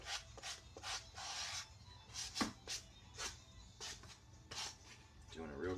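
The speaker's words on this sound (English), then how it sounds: "This second medium grade sandpaper here." Sanding with medium-grade sandpaper: quiet, rhythmic raspy rubbing strokes, about a dozen short back-and-forth passes in an uneven rhythm, faint and close.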